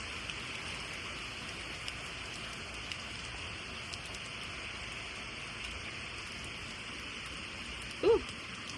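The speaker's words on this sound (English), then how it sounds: "Guys, it is pouring down rain now." Heavy rain pours steadily during Hurricane Helene, a constant dense hiss of drops on surfaces with a brief faint thump near the end.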